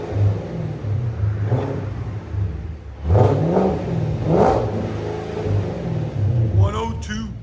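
Chevy Camaro SS with a 6.2L V8 and Magnaflow exhaust, low steady engine rumble punctuated by two sharp throttle blips that rise and fall, then a softer rev near the end.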